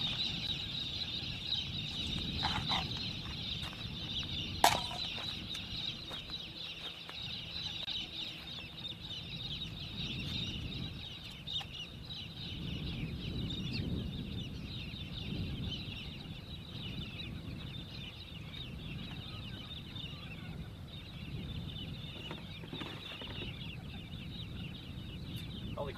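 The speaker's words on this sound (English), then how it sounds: "those birds are loud." Loud birds call continuously at a long outback water hole, a dense, steady chorus of shrill, chattering cries that fills the whole stretch without pause and with no talking.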